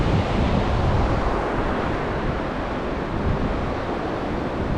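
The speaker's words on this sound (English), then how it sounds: "the waves the last week or so have been pretty big" Big ocean waves surge and break on a coquina beach, a loud, continuous wash of surf with wind noise buffeting the microphone and no voices.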